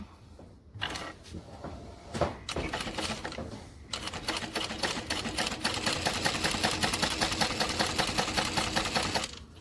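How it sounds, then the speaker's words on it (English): A sewing machine stitches up a pocket from bottom to top, starting with a few clicks and short bursts, then settling into a long, steady, close run of rapid needle chatter. "we're going to start at the bottom of our pocket and stitch up to the top of our pocket"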